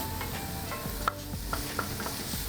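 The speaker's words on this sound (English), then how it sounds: "I'm gonna dump in my onions, carrots, and celery. Let's just give that a nice saute," Onions, carrots and celery sautéing in a pan, a steady low sizzle with a few light scrapes and knocks of stirring, close and even throughout.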